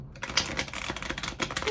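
Quick crisp riffling of cards being shuffled close up, a rapid run of light flapping clicks lasting under two seconds.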